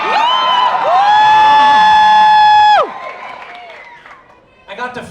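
A theatre crowd at the closing night of Rock of Ages cheers and whoops loudly over a long sustained held vocal note, then fades to a murmur before a shorter burst of cheering returns.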